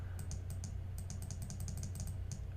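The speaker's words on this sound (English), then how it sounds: "you can just keep on clicking like I'm doing right now" Rapid, crisp clicks from a computer mouse repeat at a quick, fairly regular pace, close and fairly quiet over a low steady hum, with no talking.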